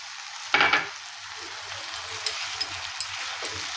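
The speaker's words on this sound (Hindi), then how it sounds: "Tomato puree पकेइबा। एटा को टिके भल्ला करी 2-3 मिनिट कसी दबा।" Tomato puree fries in a pan, a steady soft sizzle with one brief louder burst of spattering near the start and a few faint pops after.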